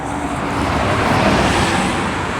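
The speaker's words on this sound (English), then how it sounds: "That was a bus." A bus passes on a city street, a loud broad roar of engine and tire noise that swells and then slowly fades, with no talking.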